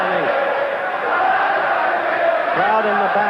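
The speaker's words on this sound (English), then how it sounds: "Crowd in the background exalting Jean-Claude Boutier on." Boxing arena crowd roaring steadily for French middleweight Jean-Claude Boutier during his fight against Carlos Monzón, a dense, continuous wall of cheering and shouting voices with no breaks.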